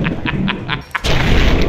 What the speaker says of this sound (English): Have you seen what one of those anti-material rifles can do to a death claw?